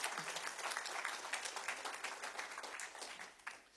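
Congregation applauding during a church service in a rented hall, a steady dense clapping from many hands that carries on throughout with no speech over it.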